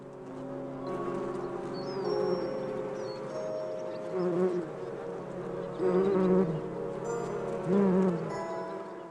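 Bees buzz steadily among olive trees, a continuous close hum with several louder swells as individual insects pass near, and no voices.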